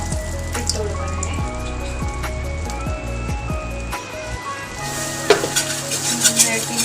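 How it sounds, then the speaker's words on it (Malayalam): Flour is stirred into melted butter in a pan. The butter sizzles and crackles steadily, a spoon scrapes and taps repeatedly, and the frying grows brighter and louder toward the end, with no talking. "ബട്ടർ മെൽറ്റായിട്ട് വരുമ്പോൾ തന്നെ നമ്മൾ അതിലോട്ടൊരു സ്പൂൺ മൈദ ഇട്ട് കൊടുക്കണേ."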